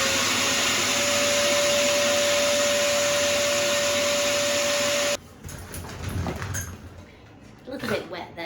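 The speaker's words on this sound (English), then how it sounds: "I'm going to dry her head." Pet hair dryer blowing a loud, steady high-pitched whine as it dries a dog's head, then cutting off abruptly, after which handling noises and quieter rustling follow.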